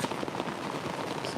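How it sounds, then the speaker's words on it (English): Heavy rain pours steadily outside a wood-stove hot tent during spring camping in Michigan, a dense continuous patter close by with no pauses. "Let you look out here at the rain."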